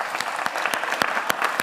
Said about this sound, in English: So give us all a round of applause.